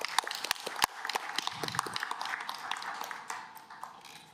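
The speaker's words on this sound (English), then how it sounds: "Could I get a round of applause and a welcome for them?" Scattered applause from a modest crowd in a council chamber, individual claps standing out sharply at first before blending into a softer, fading patter.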